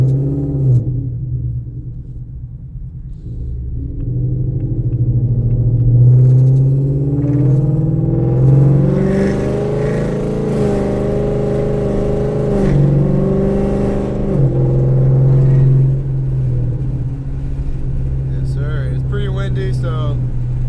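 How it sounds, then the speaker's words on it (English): A full-bolt-on Ford Mustang S650 idles at a town red light, then pulls away with a loud, deep exhaust rumble that rises through several revving gear pulls before easing off, heard from inside the car. "I just want to let y'all hear the car from this red light when I pull off in town."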